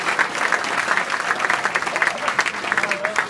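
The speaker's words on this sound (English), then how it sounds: "So a round of applause for them too." Dinner guests at a Newcastle United Foundation awards dinner give a brisk, dense round of applause for the sponsors, a close, steady patter of many hands lasting a few seconds.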